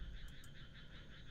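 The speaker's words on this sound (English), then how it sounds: "We could hear the great chorus of frogs in the distance." A dense chorus of frogs croaks steadily in the night in the visual novel Yosuga no Sora, faint and distant, a continuous rippling trill with no voices over it.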